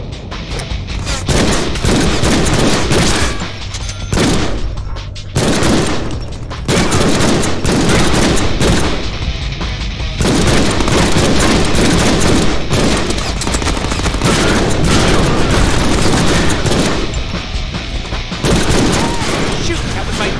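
Rapid bursts of gunfire in the Deadpool video game, loud automatic fire and heavy impacts in a dense barrage broken by brief pauses, with a voice talking over the shooting.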